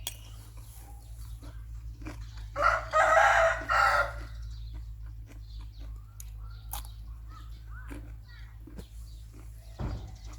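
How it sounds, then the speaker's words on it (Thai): Rooster crowing on a farm with many chickens: one clear crow about a second long, mid-distance, over quiet background with scattered small clucks and clicks, and a faint voice at times. "ไก่เยอะ"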